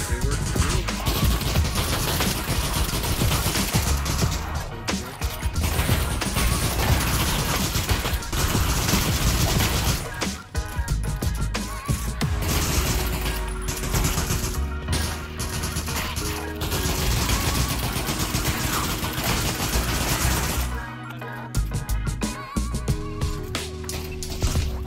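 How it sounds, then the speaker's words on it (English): Dense, nearly continuous gunfire and crashing impacts fill Pavlov Zombies, a VR shooter, staying loud throughout with brief dips between volleys. "I thought you were shooting at me."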